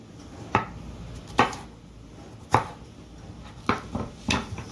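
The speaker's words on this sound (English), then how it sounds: "chop up our green peppers here." A knife chops green peppers on a cutting board in five or six separate sharp thuds spaced about a second apart, close and clear against a quiet kitchen background, with no voices.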